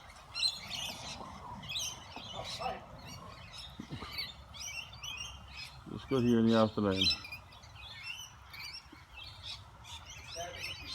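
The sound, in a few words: lorikeets and parrots chirping at feeding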